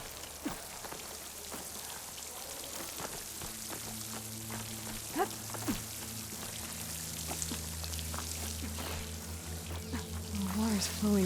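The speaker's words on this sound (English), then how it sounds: "The water's flowing into the wall." Game water from Horizon Forbidden West flows steadily into a hollow in a rock wall near a waterfall, a continuous splashing rush with scattered drips and soft footsteps, moderately close.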